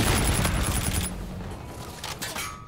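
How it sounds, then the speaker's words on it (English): A grenade blast and gunfire burst out in a Call of Duty: Infinite Warfare match, loud at first with a ringing whine, then fading into scattered distant shots and thuds. "He threw a grenade at me."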